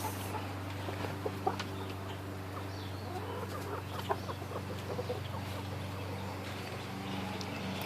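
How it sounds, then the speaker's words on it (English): Chickens cluck softly at a distance in a summer vegetable garden over a constant low mechanical hum, scattered calls with no talking. "Chickens."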